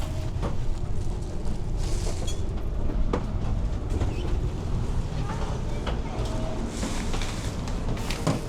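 Rumbling rail noise with scattered clanks and clicks as a train rolls past nearby at Takamatsu station in Japan, a steady low roar with sharp metallic knocks.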